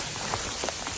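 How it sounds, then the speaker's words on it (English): Sleet of rice-sized grains mixed with rain falling outdoors on a trail, a dense steady patter with scattered brighter drop hits, close and moderately quiet. "It's sleeting right now."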